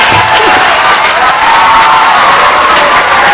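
An audience at a school sports closing ceremony claps and cheers in a dense, loud, continuous wash of applause that fills the short stretch without letup.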